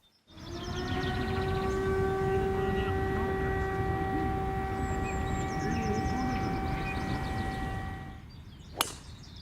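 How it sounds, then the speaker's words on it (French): Long steady siren tone signalling the start of a shotgun-start four-ball best-ball golf tournament, loud and continuous for about eight seconds before cutting off, followed by a brief sharp knock. "Et une fois que la sirène retentit, la compétition peut enfin commencer."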